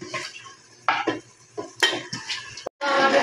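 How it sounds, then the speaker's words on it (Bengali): Greens stir-fry with beef and spices in a pan: close scraping strokes of a utensil against metal, separated by short pauses, over a hissing sizzle that swells loudly at the end. "আর এবার কিন্তু আমি ভালো করে কিছুক্ষণ কষিয়ে নিব।"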